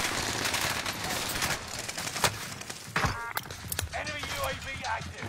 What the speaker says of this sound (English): Marking airstrike target. Three. Strike it.